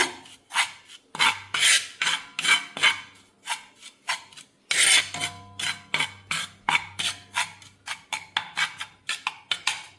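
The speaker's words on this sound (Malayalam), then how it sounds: "നന്നായിട്ട് മിക്സ് ചെയ്യണം കേട്ടോ" Homemade hair dye paste being mixed in a bowl: repeated rasping, scraping strokes in a steady rhythm, close and crisp, with no talking.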